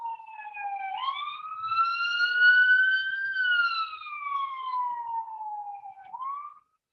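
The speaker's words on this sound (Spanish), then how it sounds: "Dejemos que pase la ambulancia de un minuto y ya." An ambulance siren passing outside wails in a slow, loud rise and fall, swelling and easing for about seven seconds with no talk over it.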